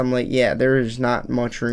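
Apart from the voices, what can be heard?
None of the usual background noises is heard.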